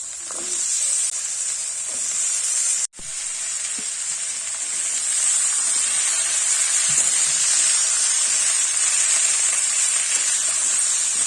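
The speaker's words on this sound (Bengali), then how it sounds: "এবার দিয়ে দিচ্ছি কেটে রাখা আলু আর বেগুন" Cut potato and eggplant dropped into hot oil, a loud continuous hissing sizzle that stays strong and steady after a brief break near the start, no voices.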